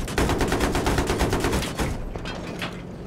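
Rapid automatic gunfire rattles out in Battlefield 3 during tank gameplay, a loud, dense burst of shots that thins into scattered fainter reports toward the end.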